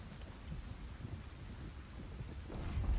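Steady rain hiss with a low thunder rumble swelling near the end, heard in the Lords of the Fallen video game, continuous and fairly quiet with no talking.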